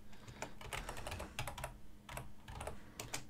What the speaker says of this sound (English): Probably you'll hear me typing on my keyboard.